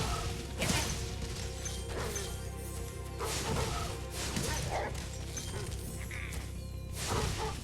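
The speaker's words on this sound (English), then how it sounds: "These dogs can be tricky." Enemy dogs bark in a fantasy level of Spyro Reignited Trilogy, with repeated yips and barks amid game music and crashing effects.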